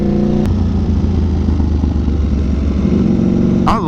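Ducati Panigale V4 SP2 motorcycle with a newly installed exhaust, a loud, steady, close engine rumble holding fairly even revs, with a brief sharp blip near the start and another near the end.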